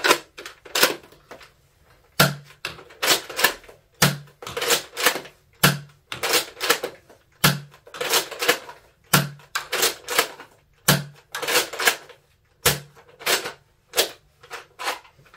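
Nerf Fortnite HR bolt-action blaster firing Elite 2.0 darts: repeated cycles of the bolt being racked with a clack and a quick sharp pop as each dart fires, rhythmic and close, about fifteen seconds with no speech.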